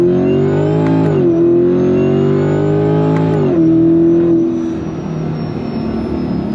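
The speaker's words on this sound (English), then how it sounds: "The pops, the bangs out of that Corsa exhaust, unfreaking believable." A supercharged 2024 Corvette Stingray with a Corsa exhaust accelerates hard, its loud engine note climbing steadily through two rising pulls before settling into a steadier roar, close and alone.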